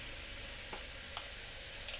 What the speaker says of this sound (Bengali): প্রেসার কুকারে কষিয়ে নিচ্ছি যাতে তাড়াতাড়ি হয়ে যায়।